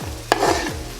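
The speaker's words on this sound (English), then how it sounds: "continue to fry them with the mince" Chopped onions being stirred into browned beef mince in a saucepan for lasagna, a soft steady frying sizzle with a few sharp scrapes of a utensil against the pan.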